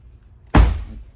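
A car door shuts once with a solid, heavy thunk up close, then the sound fades into quiet.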